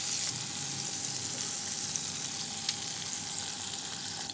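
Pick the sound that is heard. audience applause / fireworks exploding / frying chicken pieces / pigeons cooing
frying chicken pieces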